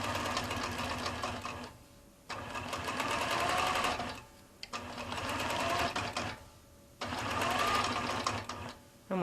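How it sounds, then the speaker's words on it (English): A quilting sewing machine started and stopped with a button on its handle stitches in four loud, steady buzzing runs separated by brief silences. "carry on stitching without having to keep hitting the stop start button"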